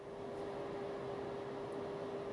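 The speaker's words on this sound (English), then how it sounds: "fan heaters keeps cutting in" A fan heater runs in the background of a workshop beside a mill table, giving a faint, steady whirring hum with a constant tone that holds unchanged throughout, with no voices.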